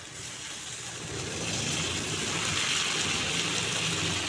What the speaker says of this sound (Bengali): এখন আমি এতে গরম জল দিয়ে দিচ্ছি